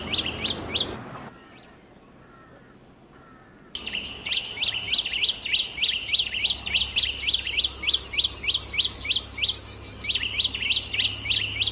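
A tailorbird calls over and over, sharp high chirps repeated in quick bursts, with a short quiet gap early on and then steady rhythmic calling close by.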